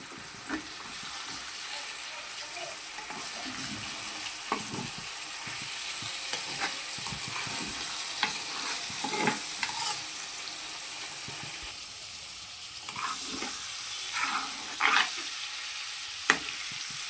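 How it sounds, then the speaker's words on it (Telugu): Egg dish being stirred in a hot pan, with repeated scraping strokes over a soft steady sizzle, close and moderately loud. "దీన్ని నిదానంగా కలుపుకోవాలి మళ్ళీ ఒక్కసారి."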